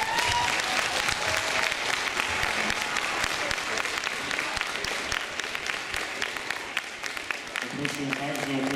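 Warm, continuous applause from an audience greeting a ballet workshop instructor on stage, steady crowd clapping throughout with talk and a few tones surfacing near the end.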